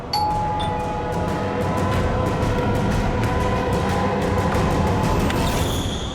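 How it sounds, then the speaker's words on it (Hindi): A doorbell's steady electronic ringing tone repeats over a loud, constant background hum and keeps going without a pause. "घंटी सुनाई नहीं देती क्या?"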